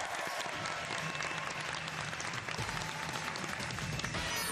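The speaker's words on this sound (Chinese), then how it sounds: "来，掌声欢迎挑战者" A studio audience at a television cooking contest applauds to welcome a challenger. Dense, steady clapping fills the room and carries on loudly for several seconds without a break.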